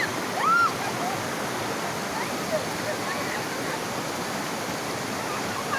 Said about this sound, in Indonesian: harus melewati sungai-sungai yang deras. Ini sangat deras.